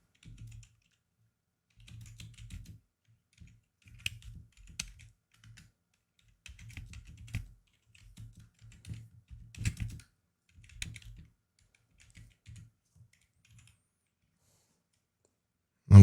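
Typing on a computer keyboard while entering an HTML heading tag, with bursts of close, crisp key clicks separated by short pauses and no talk.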